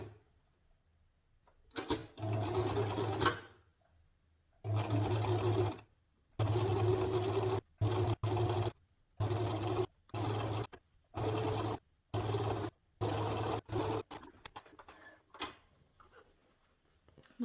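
A sewing machine stitches along the fabric edges of a wall organizer in a series of loud, close whirring runs of a second or two, separated by short pauses, with no talking.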